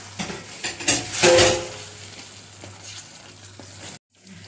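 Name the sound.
prawns frying in ghee with masala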